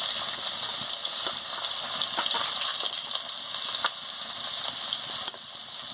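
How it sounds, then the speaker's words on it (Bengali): Chopped onion frying in hot oil in a pan, a steady, close, loud sizzle and crackle with a few sharper pops, running continuously with no talk. "দিয়ে পেঁয়াজটাকে ভালো করে ভেজে নিচ্ছি"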